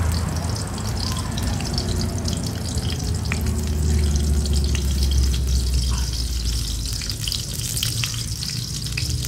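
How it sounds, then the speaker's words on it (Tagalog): A steady, loud sizzle of eggplant frying in a hot pan, with a crackling hiss that continues unbroken throughout. "nagpiprito siya ng talong"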